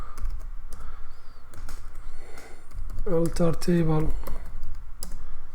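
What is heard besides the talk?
typing SQL code on a computer keyboard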